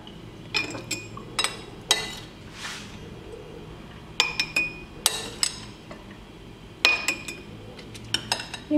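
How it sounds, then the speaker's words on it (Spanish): Pieces of pickled eggplant dropped loosely into a clean glass jar, giving sharp glassy clinks and knocks in scattered clusters, close and fairly loud, with a brief soft rustle between them and no voices. "A este frasco totalmente limpio lo voy a rellenar sin apretar porque no hace"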